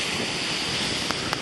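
Sea waves wash onto the beach at Brzeźno, Gdańsk, on a windy March day, a steady close hiss of surf with two faint brief splashes near the end, no talking.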